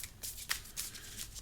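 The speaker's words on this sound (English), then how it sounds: "This all gets shuffled in here." Marvel Champions card game cards are shuffled by hand into a deck, a quick series of soft riffling and snapping card sounds, close and quiet with no talking.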